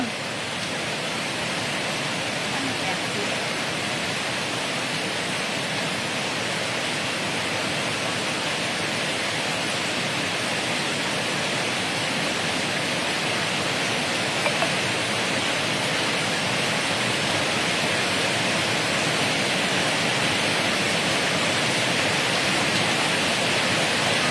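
Heavy rain falls outside a house at about five in the morning, a steady, dense hiss that stays loud and even throughout with no talking.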